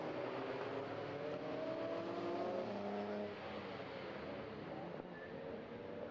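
Race cars run side by side through the complex at Croft circuit in a BRSCC endurance race, a steady, dense engine roar holding for several seconds with a slight drop midway.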